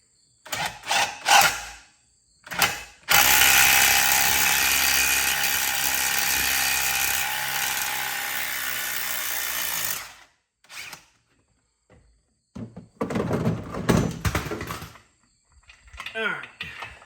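An impact wrench works on a rusted Polaris RZR transmission part, with several short bursts followed by one long continuous whirring hammer that lasts about seven seconds, then more brief rattling bursts, with someone talking between them.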